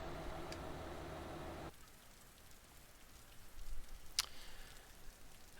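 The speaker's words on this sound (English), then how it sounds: "it is raining. I love it when it rains in the UK" Steady rain falls in Euro Truck Simulator 2 during a stop in the UK, a soft even hiss of drops on surfaces that drops lower partway through, with one brief sharp click near the end.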